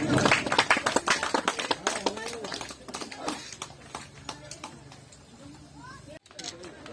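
An audience claps at a ceremony inaugurating a Vedic ashram, with dense, irregular hand claps that are loudest at first and then thin out. A voice talks over the applause.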